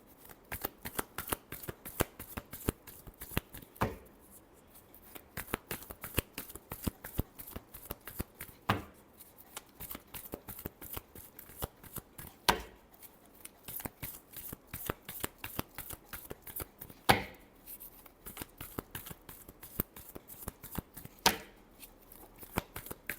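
Tarot cards shuffled by hand, a long run of quick crisp riffling taps and slaps repeating in a fast, fairly even rhythm, close and alone.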